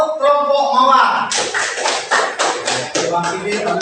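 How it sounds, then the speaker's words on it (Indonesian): A classroom claps for a student group: a short rhythmic burst of clapping follows a brief spoken line from the teacher, with hands striking in a quick, uneven pattern. "Tepuk tangan untuk kelompok mawar."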